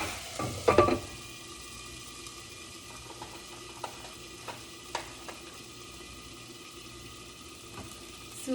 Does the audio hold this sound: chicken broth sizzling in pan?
yes